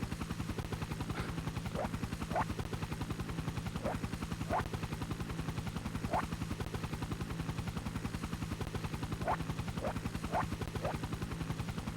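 Rapid, steady rotor chop of a helicopter in the Crazy Climber 2000 video game, a continuous loud pulsing drone with a few brief higher chirps over it.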